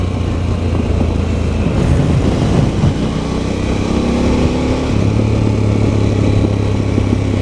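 A Harley-Davidson Pan America motorcycle ridden fast on a high, winding road, its engine droning steadily under heavy, loud wind roar that buffets the microphone throughout.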